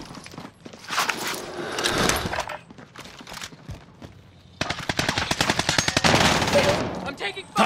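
Automatic gunfire from the Call of Duty Rebirth map, with rapid bursts of shots that come in two long dense stretches. It is loud and close, with game effects around it.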